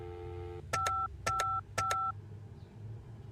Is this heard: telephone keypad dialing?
yes